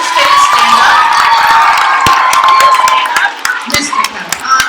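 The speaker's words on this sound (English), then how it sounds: "let's take a big moment and lots of round of applause to thank all of the teachers" A school audience at an elementary spelling bee claps and cheers for the teachers, a dense sustained burst of applause with scattered whoops and children's shouts that thins slightly toward the end.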